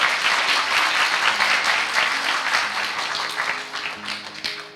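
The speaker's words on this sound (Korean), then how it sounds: "여러분 박수 부탁드립니다." Studio audience applauding on a talk show, a full burst of clapping that starts loud and gradually thins and fades toward the end.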